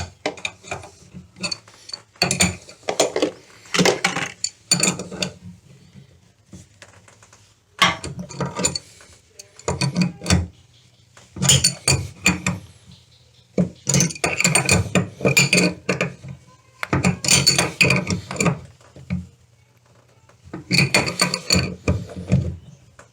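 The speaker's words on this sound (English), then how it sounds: "Thread it on. And I'll tighten it up." Metallic clicking and ratcheting as a threaded fitting on a toilet valve is tightened, close and loud, in repeated bursts of a few seconds separated by brief pauses, with no talk.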